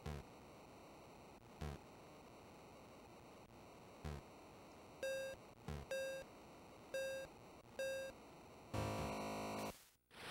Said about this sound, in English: Oh, at the buzzer.